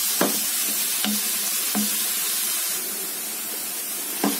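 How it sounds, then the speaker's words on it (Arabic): Onion sautéing in a hot pan: a steady, close sizzle runs throughout, with a few sharp scrapes and clicks as the onion is stirred. "اول ما يسخن على طول اروح حتى البصل، نشوح بقى فيه شوية"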